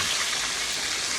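Chicken fries in a pan for Jamaican rice and peas, giving a steady, dense hiss and crackle of hot oil. The sizzle is close and continuous, with no voices over it.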